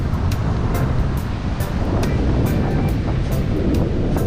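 Water waves wash and slap around a small boat, a loud continuous rush of surf and spray with rhythmic splashes and wind buffeting the microphone, no voices.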